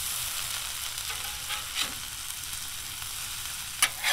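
Potatoes frying on a Blackstone 28-inch griddle, a steady soft sizzle with a few brief scraping strokes as they are stirred, the loudest scrape near the end.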